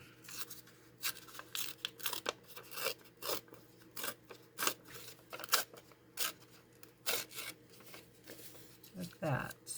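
Shiny, silvery painted paper torn by hand at close range, a series of sharp ripping bursts and crinkles spread irregularly over about ten seconds, with quiet handling in between.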